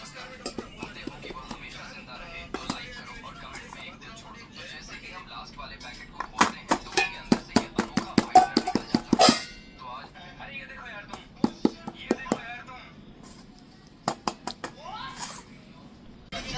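A cake is turned out of its tin onto a plate by hand, giving clusters of sharp taps on metal, loudest in a quick burst midway and again near the end, against quiet kitchen background.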